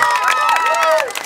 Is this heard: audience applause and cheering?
yes